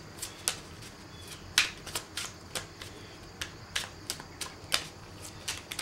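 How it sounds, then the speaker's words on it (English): Playing cards being shuffled in quick bursts, crisp riffling snaps and flutters repeating up close with short pauses between them. "I'm gonna do the cards shuffle."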